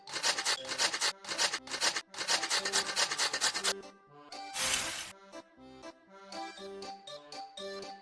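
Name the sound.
grating a pizza ingredient in a pizza-making video game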